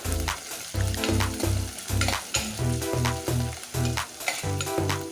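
Split green chillies and shallots sizzle in hot oil while being stirred and sautéed, a loud crackling fry with rhythmic scraping strokes of the spoon.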